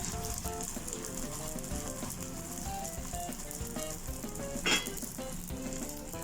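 Kerala porotta sizzles steadily in oil on a pan, a continuous crackling fry with a brief louder spatter near the end as the bread shifts, no voices present.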